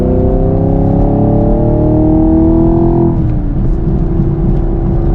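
A 2023 Honda Civic Type R or 2023 Camaro SS 1LE engine drones loud and close at speed on a track, pitch climbing steadily then dropping sharply at a shift before holding again.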